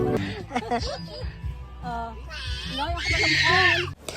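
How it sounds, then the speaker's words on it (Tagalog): A child shrieks and yells in high, strained bursts, loud and close, mixed with babbling voice sounds and rising to a sustained scream near the end. "Kung naririnig nyo ngayon anak ko dyan na sige ang sigaw"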